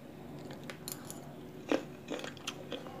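Someone chewing green mango salad dressed with fermented fish sauce, producing faint, close crunchy bites and wet chewing sounds at an irregular pace, with one sharper crunch partway through and no talking.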